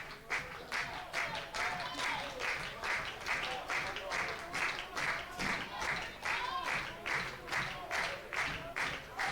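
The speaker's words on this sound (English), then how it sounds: "Choctaw fans starting the claps" Choctaw baseball fans clap together in a steady, even rhythm across a ballpark crowd at a conference championship game, a long run of evenly spaced claps with a play-by-play commentator talking over them.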